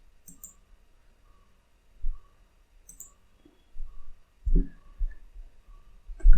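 Mouse and keyboard clicks while modelling in Blender: sparse, quiet single clicks, then a cluster of sharper taps near the end, with no talking.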